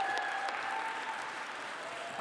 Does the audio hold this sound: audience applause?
yes